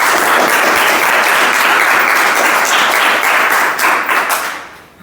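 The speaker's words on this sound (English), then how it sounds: "So can you clap, please?" An audience at a club meeting bursts into loud, dense clapping that stays full for several seconds, then thins out and fades near the end.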